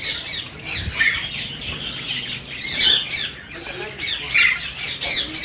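Parrots squawk loudly and repeatedly in an aviary setup holding grey, eclectus, Alexandrine and yellow ringneck parrots, with harsh overlapping calls and someone speaking underneath.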